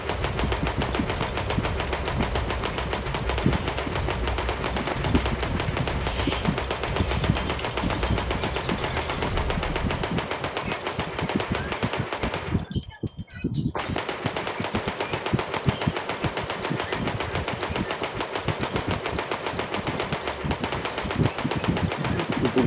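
Rapid automatic gunfire from the sandbox video game Melon Playground, dense and continuous bursts that cut out briefly midway before resuming just as loud.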